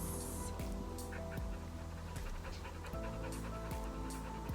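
Dogs in a dog room at a crate-training kennel pant steadily and rapidly, close by, with a continuous rhythm and light background rustle.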